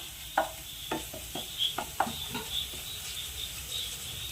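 Garlic and chili flakes frying in a pan, with a scattering of short stirring scrapes and soft crackles over a faint steady sizzle, close up and fairly quiet.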